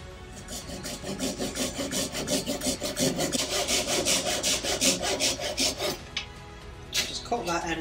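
A hand saw cuts the end off a wooden drumstick with steady, rhythmic rasping back-and-forth strokes, close and loud, until the cut ends around six seconds and a few brief knocks and rustles follow.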